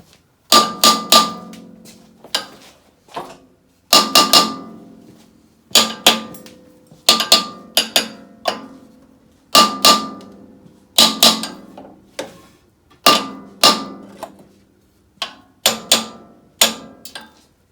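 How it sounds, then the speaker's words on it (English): Hammer tapping on the flywheel of a Briggs and Stratton opposed-twin engine on a Ford YT16 tractor, loud metallic clanks in short clusters of two or three blows with brief pauses between. "maybe tap on it with a hammer a bit."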